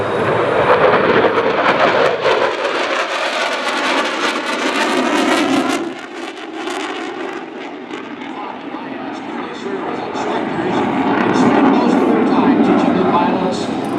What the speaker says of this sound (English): photo pass and the dedication pass by the Hornet.